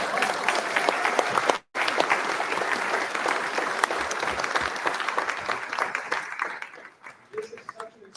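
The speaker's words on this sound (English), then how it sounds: "I know we just applauded, but we have another round of applause" An audience at an author talk bursts into another sustained round of applause, loud dense clapping that holds steady after a brief cut and then tapers off toward the end, with a few faint voices underneath.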